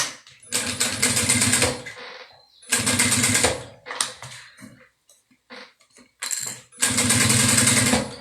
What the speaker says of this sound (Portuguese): E continua a costura até o final.